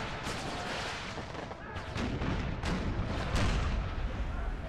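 Artillery cannon fire in the strategy video game Empire: Total War, set in an American Civil War battle, with repeated booming shots and dense rumbling battle noise layered continuously throughout.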